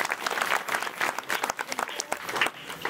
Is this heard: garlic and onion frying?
no